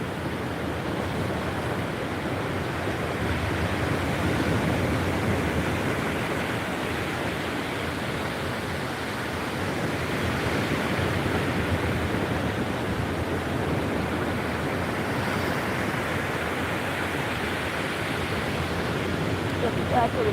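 Ocean surf rolls in a steady, dense wash on a foggy morning by the sea, a continuous broadband roar with slow swells in loudness and no distinct breaks, heard alone.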